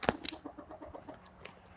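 Chickens clucking in short, soft, scattered calls spread across a brief moment, with a brighter squawk near the start and faint flapping or rustling beneath.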